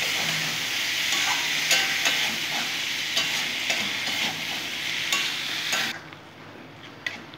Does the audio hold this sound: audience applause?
no